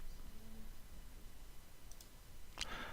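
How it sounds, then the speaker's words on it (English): Computer mouse clicks while drafting in AutoCAD, a faint low hum throughout and a quick close click near the end, very quiet with no speech. "And now I need to do only one more click"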